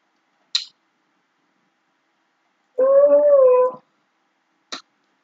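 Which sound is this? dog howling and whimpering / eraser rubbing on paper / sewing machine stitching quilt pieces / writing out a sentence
dog howling and whimpering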